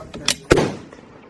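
A WWII-era .303 rifle fires one loud, sharp shot preceded by a smaller crack, with the report decaying quickly outdoors.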